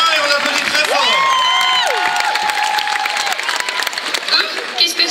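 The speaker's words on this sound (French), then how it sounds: "On la soutient et on applaudit très fort." A convention crowd at a solo cosplay contest applauds loudly, clapping mixed with cheers and high shouts and whistles, dense and sustained throughout with excited voices calling out over it.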